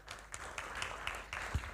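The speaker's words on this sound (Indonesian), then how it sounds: "Tepuk tangan untuk beliau." Scattered applause from a seminar audience on a digital business and economy session day, welcoming an invited speaker; light, uneven clapping at moderate distance, fairly quiet, with no talking over it.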